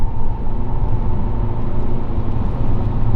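A Toyota Caldina GT-Four with its 3S turbo engine and all-wheel drive, heard from inside while driving: a loud, steady low engine and road drone with no breaks.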